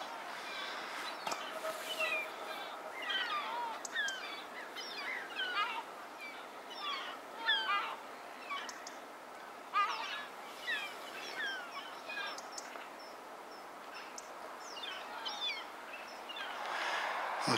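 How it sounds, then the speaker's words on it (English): Gulls calling from overhead on a snowy day, scattered squawks and cries of several birds, fairly faint and distant, coming in irregular bursts over a quiet outdoor background. "There's a lot of gulls flying around up there."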